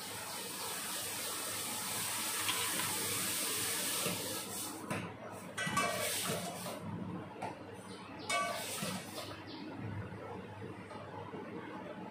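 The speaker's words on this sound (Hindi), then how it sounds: "तो सुबह में चाय पीने के बाद मैं सबसे पहले अपने जो भी पौधे हैं उन सारे पौधों में पानी वगैरह दे देती हूँ।" Water pours steadily onto potted plants during a morning watering routine at home, a continuous splashing gush that breaks into shorter bursts toward the end, fairly close.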